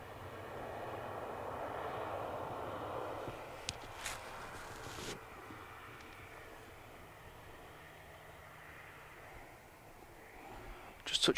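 An EasyJet Airbus A320 arriving from the Isle of Man touches down on runway 05R at Manchester Airport, a steady broad engine roar that swells early then settles into a lower rumble, with brief sharp clatters and gusts.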